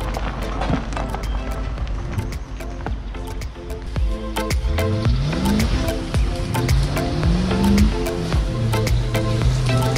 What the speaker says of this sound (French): Ah, j'ai fait un dérapage là-haut.